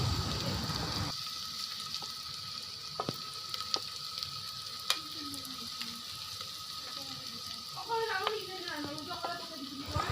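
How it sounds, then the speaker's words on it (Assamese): Dried chili and spices frying in hot oil give a faint, steady sizzle, with a few light clicks and brief voice sounds over it, for an Assamese-style mutton matka dish. "এতিয়া তেলবোৰ গৰম হোৱাৰ পিছত শুকান জলকীয়া এটা দি লৈছোঁ আৰু মছলাবোৰ দি লৈছোঁ"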